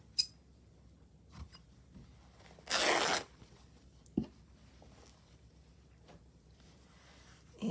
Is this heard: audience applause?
no